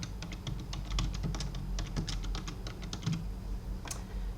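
Steady typing on a computer keyboard, a quick irregular run of close, soft key clicks over a low background hum.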